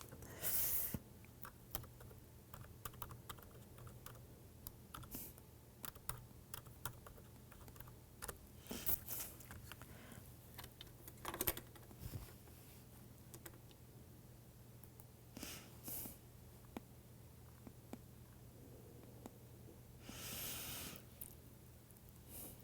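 A computer keyboard is typed on in short irregular bursts of clicks, fairly close and quiet, over a steady low hum with no talk.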